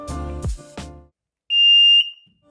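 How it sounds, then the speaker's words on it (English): A WaterWatch sump pump lid water alarm gives one shrill, steady high-pitched electronic tone lasting about half a second, loud and close, after a few clunks and handling noises. "It has a corded alarm, and we're going to show you the alarm sounds over there."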